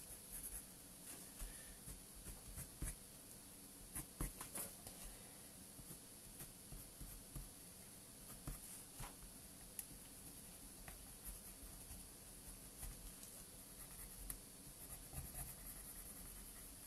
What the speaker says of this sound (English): Burnishing some of these colours together a little bit now using this champagne.